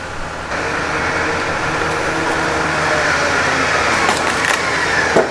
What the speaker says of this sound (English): Okay, Rick, winch in.